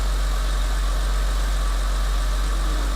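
A Porsche Boxster engine with a modified air intake, unstarted for about a month, idles steadily with a low, constant hum and faint vibration, no other sounds on top.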